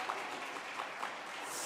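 Audience applause at a university semester-opening church retreat: a quiet, steady patter of clapping from a crowd that continues evenly throughout.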